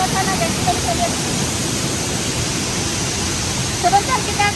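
Pabeti Lakera waterfall on Sumba roars in a loud, steady, unbroken rush of falling water heard up close, with no pauses.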